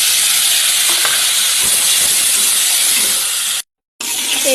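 A splash of water poured into onions and spices frying in a hot wok sets off a loud, hissing burst of steam and sizzle that carries on steadily, with one brief silent gap near the end.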